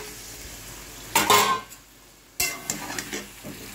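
Chicken meat drops into hot oil in a pan over a gas flame for a chicken curry, giving two loud, close bursts of sizzling and clattering, with quieter frying between them.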